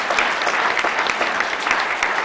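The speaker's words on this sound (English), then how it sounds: "Let's give another round of applause to all of our incredible speakers this evening." Dense, steady applause from an evening audience honoring speakers at a PechaKucha presentation event, a continuous close wash of many hands clapping throughout.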